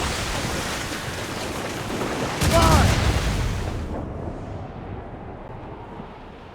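Ship cannons fire from a sailing warship in Assassin's Creed Rogue amid wind and crashing sea, a loud booming volley in the middle over constant surf noise that fades away afterward.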